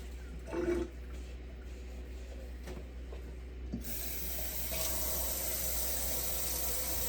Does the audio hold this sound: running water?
yes